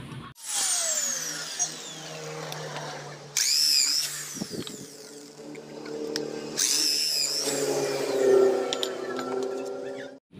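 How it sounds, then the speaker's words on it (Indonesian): A power drill bores a hole through a motorcycle clutch plate, for a Yamaha Vega ZR hand-clutch modification. It runs in two loud, sustained bursts of whirring, each ending with a rising high whine, and the motor hum holds steady in between. "Oke, tadi platnya sudah kita bor,"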